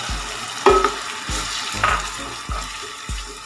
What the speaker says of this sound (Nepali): अब यो प्याज भुटिसकेपछि हामी यसमा हाल्छौँ टमाटरको लेदो।